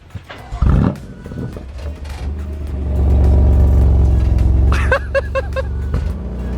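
A carbon-bodied McLaren with broken exhaust valves rumbles up close, its deep engine note swelling into a loud, droning roar before settling to a rough, uneven idle.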